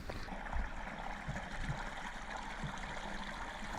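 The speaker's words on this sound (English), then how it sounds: "After going a short distance down this trail, you cross Crescent Creek." Crescent Creek running through coastal forest near Ecola State Park on the northern Oregon coast, a steady close wash of flowing water with no speech.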